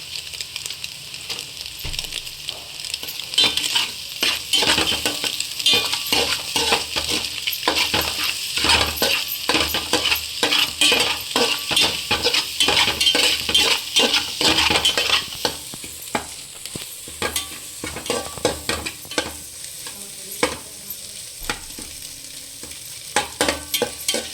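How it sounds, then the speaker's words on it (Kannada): Egg fried rice is fried in a pan with salt and chili powder, a continuous close sizzle broken by rapid, rhythmic scraping and stirring strokes that ease off partway through. "ಚೆನ್ನಾಗಿ ಫ್ರೈ ಆಗಲಿ"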